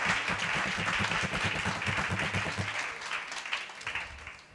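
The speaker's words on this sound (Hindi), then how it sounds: "हाथ तालियां बजाकर स्वागत करें" A church congregation at a Good Friday service claps hands in welcome, a steady, moderately loud patter of many hands with a low hum of voices underneath throughout.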